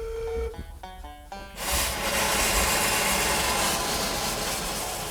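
The Talyllyn Railway's steam locomotive No.2 Dolgoch runs round its train: a brief tonal whistle-like sound gives way to a loud, sustained hiss of escaping steam.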